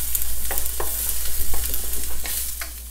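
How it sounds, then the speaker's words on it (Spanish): Half a chopped onion and three garlic cloves fry in heated oil for a shrimp broth, giving a steady close sizzle with occasional stirring scrapes and no talk. "Ponemos aceite a calentar un poquito, echamos media cebolla picada y 3 dientes de ajo."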